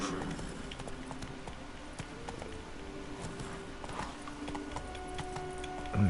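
A horse's hooves clip-clop at a steady galloping rhythm in the Witcher 3 Blood and Wine video game, moderately close, with faint game ambience and no talk.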